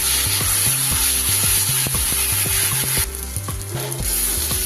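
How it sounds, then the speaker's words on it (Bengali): Ginger, garlic and green chili paste fries hard in a pan for a chicken curry, a loud continuous sizzle with rhythmic spatula scraping and stirring strokes close by. "চামচ আদা রসুন কাঁচা লঙ্কা বাটা দিয়ে দিই। খুব ভালো করে কষিয়ে নিই।"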